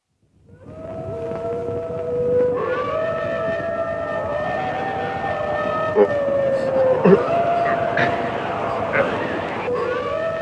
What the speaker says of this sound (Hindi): किले के पास आकर सियार क्यों चीख रहे हैं?